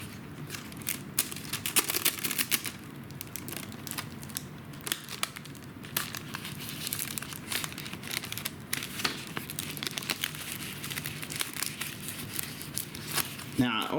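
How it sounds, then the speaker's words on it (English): Clear plastic tape is pulled and wrapped around a foam door draft stopper, giving crinkly crackling and tearing sounds close by, over steady room noise with quieter handling noises throughout. "you take this clear plastic tape and it sort of bends where it's not sticky. And you can just wrap it around"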